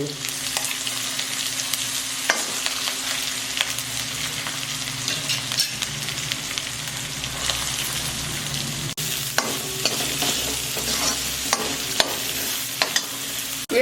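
Onion and green chillies frying in oil with mustard seeds, cumin, ginger and garlic for a dhaba-style dahi bhindi gravy; a loud, continuous sizzle runs throughout, broken by occasional spoon clicks and stirring scrapes, close by with no speech.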